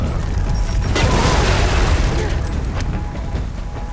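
A frag grenade detonates in Gears of War 4 with a loud, close boom and crackling debris, the blast rumbling out over several seconds amid game noise and combat chatter.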